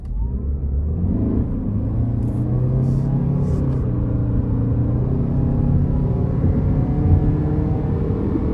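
A 2026 Toyota RAV4 LE AWD accelerates hard from inside the cabin, its engine climbing in a steady, rising drone over road rumble for several seconds, with no talk.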